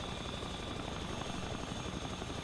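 A helicopter flying in the survival game The Front gives off a constant rotor thrum and engine whine, steady and fairly close, with no speech.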